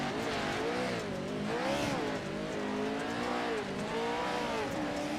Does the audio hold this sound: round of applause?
no